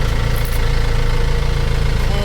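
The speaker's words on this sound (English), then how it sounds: "Engine is on." A sailboat's engine idles in a busy anchorage in the Bahamas before dawn, a steady, loud low rumble with constant vibration and no pauses.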